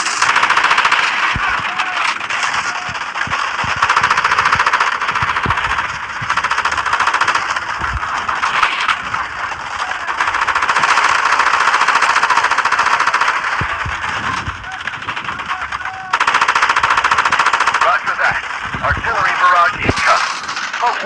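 Rapid, sustained bursts of automatic gunfire in a video game rattle on and off over a loud, dense background of explosions and engine rumble.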